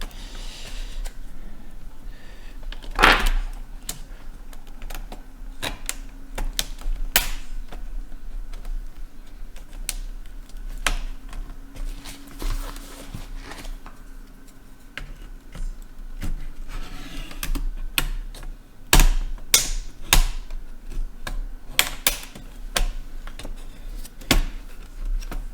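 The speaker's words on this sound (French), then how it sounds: "on retire le clavier." A laptop keyboard is pried and lifted out during a noisy-fan repair, giving scattered sharp clicks and plastic snaps over a quiet background, with a few louder cracks along the way.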